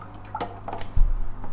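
An Eheim Experience 250 filter basket holding dirty Eheim Substrat Pro media is lowered into aquarium tank water, making a few soft drips and splashes followed by a louder sloshing plunge, close by, over a low steady hum.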